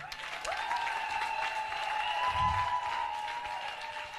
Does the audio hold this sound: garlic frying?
no